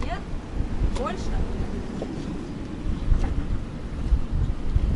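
Hurricane Nicole's 40-knot gale roars over a boat at anchor in Hooker Bay, Florida, a steady close rumble of wind and rigging noise that swells in stronger gusts.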